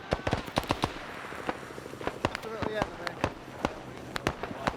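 Frag grenades and small arms in a Vietnam War video game op, heard as a run of sharp cracks and pops, some clustered and some spaced apart, with talk underneath.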